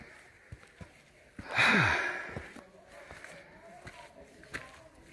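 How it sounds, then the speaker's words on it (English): A hiker breathes hard while climbing steps on a mountain trail toward a bluff, one loud heavy exhale standing out among quieter breaths and scattered footfalls. "The heavy breathing you hear is me."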